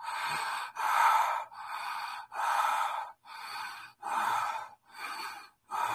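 Loud, rhythmic breaths in and out through the mouth, about eight even puffs in quick succession with short pauses between, close to the listener.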